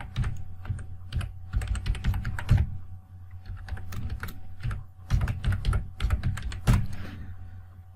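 Rapid keystrokes on a computer keyboard while an email address is entered, a close, steady clatter of taps in quick bursts with a short pause near the middle.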